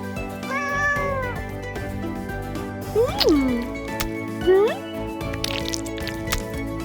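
Cats meowing in a cartoon, several distinct rising and falling meows spaced apart over music and background sounds, with speech present.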